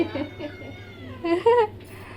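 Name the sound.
cat meowing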